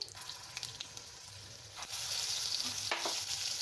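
Dried chili, bay leaf, a sprig of curry leaves and garlic chutney dropped into hot oil with asafoetida, a quiet sizzle that swells into a louder, steady hiss partway through, with a few light stirring clinks.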